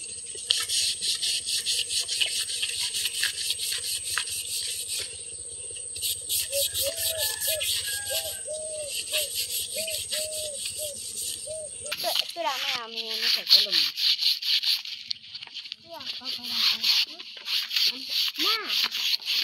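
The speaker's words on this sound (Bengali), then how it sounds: "এই যে পাতাগুলা দিয়ে পাঙ্গাস মাছ ঘষব।" Pangas fish scrubbed clean with leaves in a village kitchen: a steady close rasping rub runs throughout, with a voice and bird-like chirps breaking in over the scraping.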